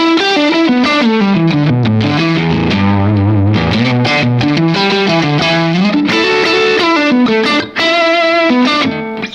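Electric guitar with treble fully up, played through a J Rockett Melody pedal into cab A, giving a loud, sustained, saturated tone with chorus-like shimmer as chords and single notes ring continuously.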